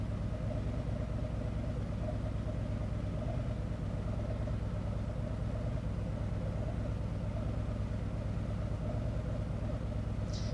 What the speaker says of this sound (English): Okay, again, another test with the engine idling.